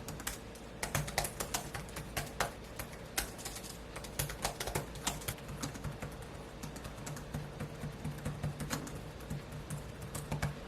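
Rapid, steady clicking of keys on a ThinkPad L13 Yoga laptop keyboard, fairly quiet and close, continuing throughout with no voices.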